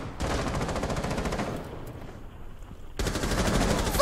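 Rapid automatic gunfire in Rainbow Six Siege: a dense burst of shots, a brief lull with scattered echoes, then another loud sustained volley, with no talking.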